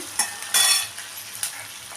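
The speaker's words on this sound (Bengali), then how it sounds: "কেটে রাখা আলুগুলো দিয়ে দিলাম। আলুগুলোকে একটু আমি ভেজে নিচ্ছি।" Freshly cut potatoes hit a hot pan and fry with a bright, close sizzle, a sharp burst on entry and a few scraping stirs over a steady hiss.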